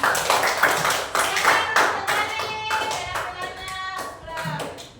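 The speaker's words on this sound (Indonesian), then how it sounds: "Tepuk tangan untuk kelompok 2" Classroom of students applauding a student group, bursts of brisk hand clapping from many people, loud and close, with faint voices underneath.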